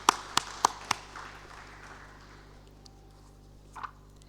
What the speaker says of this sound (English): Let's clap for them again,